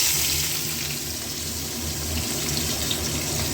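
Large-cut capsicum fries in a generous amount of hot oil in a wok, giving a dense, steady sizzle close up, constant and unbroken like running water.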